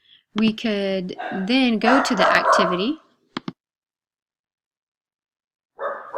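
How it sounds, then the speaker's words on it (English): A pet dog barks somewhere in the background, faint and partly buried under someone talking close up indoors, with a brief sharp sound after he stops. "that's my dog barking in the background"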